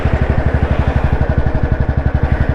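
Royal Enfield BS4 Standard motorcycle with 43,000 km on it, its engine running in a steady, close, loud thumping exhaust beat with an even rapid rhythm throughout, no talking.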